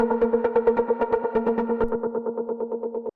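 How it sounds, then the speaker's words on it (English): Acid trance synth line with a prominent delay synced to one beat, a rapid run of bright, buzzy repeated notes pulsing steadily for about three seconds before cutting off. "So I've got quite a prominent delay on this"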